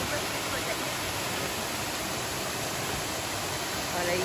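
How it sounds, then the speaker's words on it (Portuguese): Waterfall at Cachoeira do Abade in Pirenópolis, a broad, steady roar of falling water filling the scene evenly and without pause. "Muito linda. Cachoeira do Leite."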